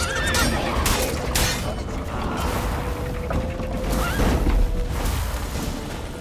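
A horse in The Witcher 3 neighs and whinnies loudly up close while hooves clatter and gear creaks in a busy, continuous game scene.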